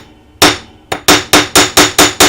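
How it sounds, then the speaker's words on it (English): Hammer striking a metal tension set clasp to flatten and harden it, one sharp blow, then a brief pause and a run of six loud, evenly spaced close strikes. "give it a little bit of a hammering to flatten up and to harden your metal on that shoulder"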